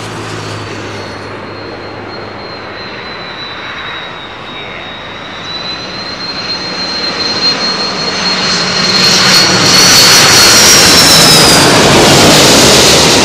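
Jet airliner arriving on runway 27L at London Heathrow: a steady jet engine roar with a high whine that grows louder and closer over the second half, with no talking.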